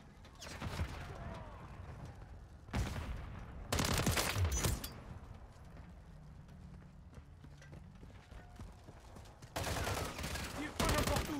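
Bursts of automatic gunfire from Call of Duty: Modern Warfare 3 multiplayer, loud and close, with several sharp clusters of shots separated by quieter stretches of game noise and voices.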